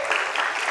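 Brief burst of audience applause at a strategic initiatives presentation, dense steady clapping from a crowd filling the short moment.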